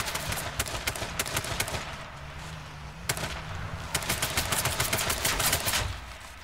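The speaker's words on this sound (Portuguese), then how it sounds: "Tá atirando em quem" Rapid bursts of gunfire ring out in the online battle royale game H1Z1, repeated sharp shots and volleys spread across the scene over a low vehicle hum.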